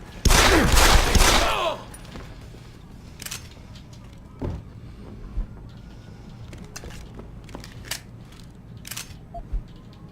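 A loud burst of rapid video game gunfire in Deus Ex: Human Revolution opens, followed by scattered single shots and clicks at uneven intervals over a quiet background.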